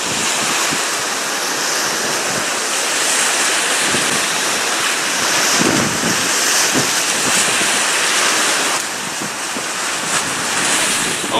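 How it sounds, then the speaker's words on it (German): Strong wind buffets the microphone over a steady roar of ocean surf on Frøya island, Norway, with waves breaking continuously close by. "es hat zu viele Wellen."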